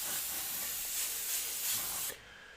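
Steady airbrush hiss spraying texture through a stencil to add grit and wear to painted gears, a continuous close spray lasting about two seconds before cutting off abruptly, with no talking.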